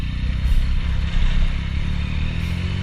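A Yamaha FZ-09 engine running under a small amount of throttle, a loud, steady, close rumble with a dense low growl that holds without pause for the whole stretch.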